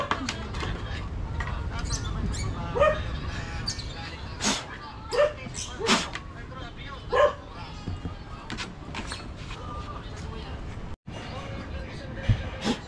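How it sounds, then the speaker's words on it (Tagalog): Dogs barking around a boatbuilding site, several scattered barks and yips at varying distance under ongoing talk and background noise. "Kailan kayo makaka-experience ng vlog na walang naririnig na tahol ng aso sa lugar na to?"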